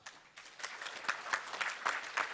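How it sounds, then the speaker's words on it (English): Modest audience at a hackathon opening ceremony clapping, a faint, distant patter of many hands that builds slightly over a couple of seconds, with no talking. "Give yourself a round of applause."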